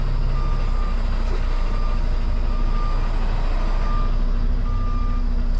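A semi truck backing a trailer gives steady, evenly spaced reversing beeps over a loud, constant diesel engine rumble close by.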